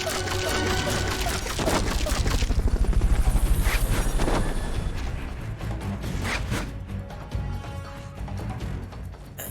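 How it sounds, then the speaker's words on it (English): Fulton recovery helicopter in Metal Gear Solid: Peace Walker, a steady, loud rotor drone with dense rumbling and crackling game effects layered over it throughout. "Fulton recovery helicopter is complete."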